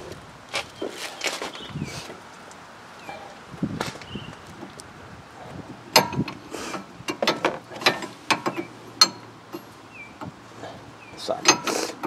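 A 22 mm wrench working loose the outer tie rod end nut on a 2006 Nissan Altima 2.5L: intermittent metallic clicks, ratcheting ticks and clanks come close and sharp in bursts, with rustling handling noises and no talk.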